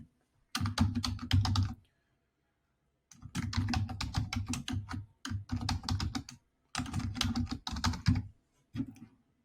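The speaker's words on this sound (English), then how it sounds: "I'm going to go ahead and type in the school name, the year, the teacher's name, and grade that I want on the title block." Bursts of typing on a computer keyboard as a school name, year, teacher's name and grade are entered, rapid close clicking in several runs separated by short pauses, alone without talk.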